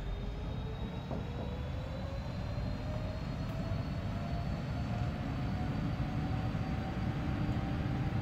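Airliner engines at takeoff thrust roar steadily through the takeoff roll, a loud continuous rumble with a thin whine that slowly rises in pitch.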